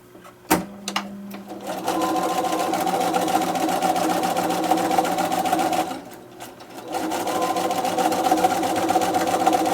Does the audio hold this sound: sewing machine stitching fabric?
yes